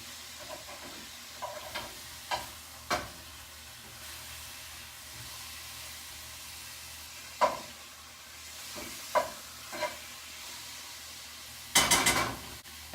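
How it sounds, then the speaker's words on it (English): Steak sizzles gently in a pan on low heat, a soft, steady frying hiss broken by several sharp clinks and scrapes of a utensil against the pan. "Cooking it on low makes it so the steak doesn't cook too fast and it doesn't dry out"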